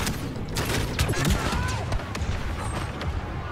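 Continuous Star Wars Battlefront II battle gunfire, dense overlapping blaster shots and rattling bursts filling the whole stretch at steady loudness, with a few sharper cracks up close.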